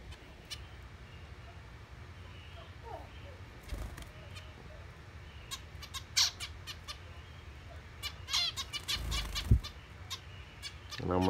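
Cockatiels and zebra finches in an aviary, scattered squawks and chirps near and far with sharper calls toward the end, over a low background rumble.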